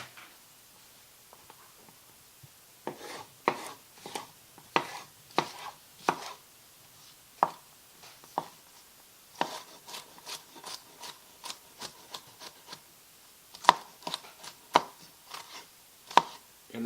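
Red pepper being chopped with a knife on a cutting board for gazpacho, irregular crisp knocks in bursts, close and clear with no talking.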